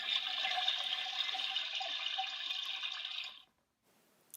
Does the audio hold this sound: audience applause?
no